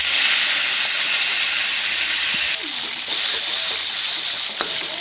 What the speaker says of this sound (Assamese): এই বাচি থকা তেলখিনিতে ঢেকীয়া শাকবোৰ অকণমান ভাজি লৈছোঁ।